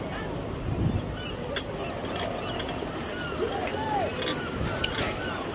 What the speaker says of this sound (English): So we've got seagulls swooping everywhere.